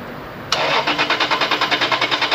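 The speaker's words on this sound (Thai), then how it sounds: "เราจะให้ดูนะฮะให้ดูว่าไฟออกหัวเทียนไหมนะครับลองสตาร์ทดูครับ" A small engine is cranked over in a spark-plug test after an in-flight stall, giving a fast, even run of about fourteen pulsing strokes that starts abruptly and stays loud and close, with no talking.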